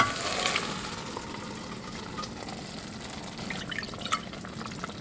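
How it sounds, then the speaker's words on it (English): Cooked dal goes into a pot of vegetables for South Indian sambar, giving a soft wet plop and gentle sizzle followed by quiet stirring and liquid sloshing, with a few small clinks near the end. "Now I'm adding cooked dal to the vegetable mix."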